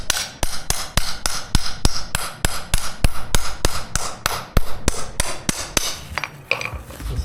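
Repeated hammer blows on a scraper chip away flooring stuck to concrete with contact cement, over twenty crisp, evenly spaced knocks, loud and close, with no voices.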